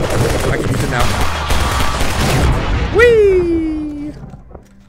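The dark cannon fires in the Lambda Wars video game, heavy booming blasts over a busy battle, ending in a sharp descending electronic whine. A voice calls out briefly.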